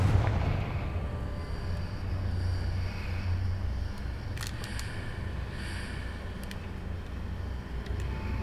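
A Confringo fire spell detonates in Hogwarts Legacy, a loud burst at the start that settles into a steady rumbling roar, with a few sharp crackling bursts midway through.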